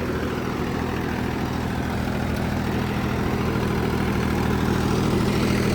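A tractor engine runs steadily at a loud, close idle on a farm, with a constant low rumble and throbbing vibration that never changes pace.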